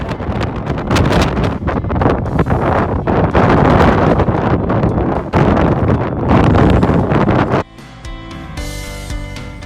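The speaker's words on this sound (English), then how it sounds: "now here I am on the misty summit, proper windy stuff" Loud, gusty wind buffets the microphone in roaring bursts on the misty summit of Ben Nevis, then drops suddenly to a quieter, tonal background near the end.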